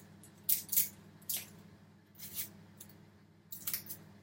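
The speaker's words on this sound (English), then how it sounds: "So I am going to peel back my onion." Dry onion skin crackles and crinkles as it is peeled by hand in a quiet kitchen, in several short, crisp bursts separated by pauses.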